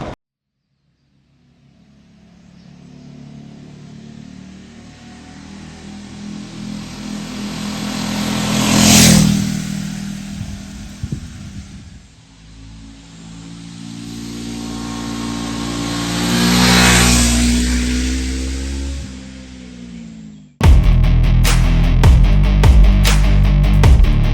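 A Honda NX400 motorcycle with a CBR400-derived engine accelerates on a highway, its engine note climbing loudly through two long revving pulls before a burst of harsh wind roar takes over near the end.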